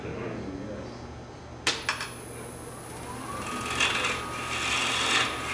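A 3/8 bowl gouge cuts wood on a lathe fitted with a Nova chuck, giving a continuous raspy scraping with a couple of sharp ticks and brighter surges as the cut deepens, under a room hum.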